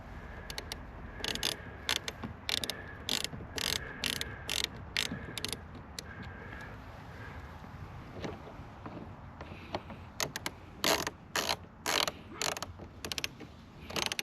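Bolts on a C8 Z06 wicker bill extension are tightened with a ratchet, producing close rapid clicking bursts that repeat in steady runs with short pauses between.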